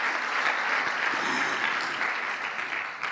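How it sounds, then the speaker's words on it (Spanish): A church congregation claps in sustained, dense applause throughout, loud and even, with no voice standing out. "Y en esa admiración démosle un aplauso"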